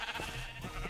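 Sheep bleat in the BarbieCraft video game, a single close, wavering bleat over a steady, busy game background.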